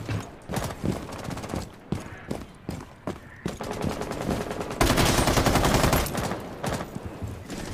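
Rapid gunfire in the video game Rainbow Six Siege, with bursts of shots early on giving way to a dense, continuous barrage of loud, close firing.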